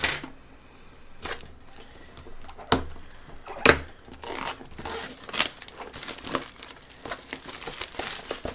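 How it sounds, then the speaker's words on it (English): Crinkling and crackling of plastic packaging on an NZXT Respire computer case being cut with small scissors and pulled open, with sharp snips and rustles coming in irregular bursts, close up. "get my small tiny scissors here and unbox this one"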